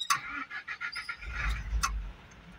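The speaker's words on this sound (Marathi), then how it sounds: "चालू करते गाडी" A CNG truck on the road to Dodamarg is started: a quick jangle and clicks, then a low engine cranking and catching for about a second before settling, heard up close inside the cab.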